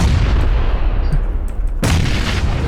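Grenade blast in the PUBG battle royale game: one heavy, loud explosion bursts near the end over a constant booming, rumbling background of battle noise, with no talk.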